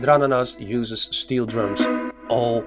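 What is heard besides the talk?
None of the usual background noises is heard.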